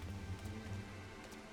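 Steady rain falls in Final Fantasy XIV: Heavensward, a soft, continuous patter with a low background hum running underneath throughout.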